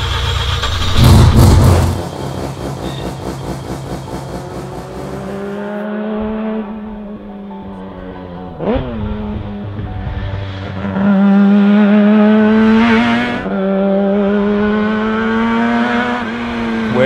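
A Mazda RX-2 race car, built to period class rules, howls on a track. Its engine revs rise and fall through several gear changes with a loud burst near the start, and it keeps a steady, near drone without talk.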